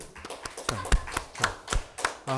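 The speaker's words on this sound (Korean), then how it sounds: "박수." Sparse, uneven hand claps from a small audience follow a special lecture on the church, with roughly a handful of distinct, close, sharp claps spaced irregularly rather than a full round of applause.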